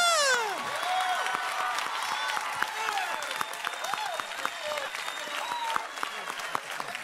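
A church congregation at a Sunday service applauds steadily with scattered cheers and whoops, while a voice carries over the dense clapping throughout.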